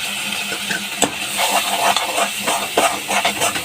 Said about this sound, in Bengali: মশলাটা আমার কষানো হয়ে এসছে।